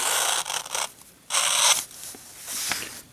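A small folding scalpel with a razor blade slices through material in a cut test, giving three bursts of crisp, close, hissing scraping strokes separated by brief pauses.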